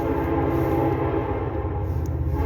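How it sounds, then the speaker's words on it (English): A train runs past on railroad tracks close to a house, a loud, steady rumble that fills the whole stretch with no break and no voices. "I live by the railroad tracks."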